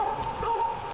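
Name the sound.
drone loudspeaker barking like a dog to scare bears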